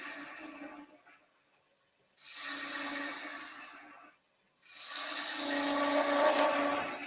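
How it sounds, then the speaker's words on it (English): Wood turning on a lathe with a half-inch bowl gouge, two sustained scraping cuts of a few seconds each, separated by short pauses, close and steady. "This is a robust half-inch bowl gouge."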